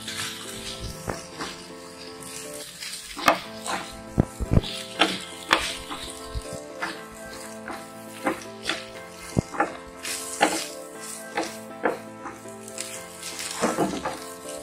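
Curry leaves drop into hot oil for a traditional village-style mutton kulambu, giving uneven crackling pops and a soft sizzle over a steady tonal background.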